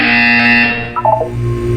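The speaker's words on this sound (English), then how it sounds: "You will hear a buzzer." A buzzer from the Portal 2 video game sounds as one loud, sustained, harsh electronic tone that breaks into a brief warbling flutter before fading.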